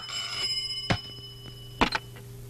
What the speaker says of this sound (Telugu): ఫోన్ మోగుతోంది కదరా బుజ్జి.